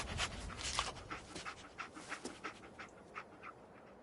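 Dogmeat, the German Shepherd companion in Fallout 4, pants in quick rhythmic bursts at close range, with no talking over it.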